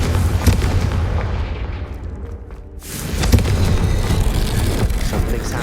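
A Confringo fire spell explodes in the video game Hogwarts Legacy, a loud booming blast that swells, dips briefly, then roars back with a broad rumbling burst, heard alone without talk.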